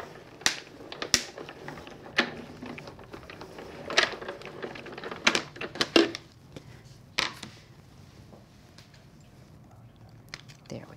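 Card being cut in a die-cutting machine for a craft frame, a series of sharp mechanical clicks and cranks, fairly quiet and irregular, spread across the stretch.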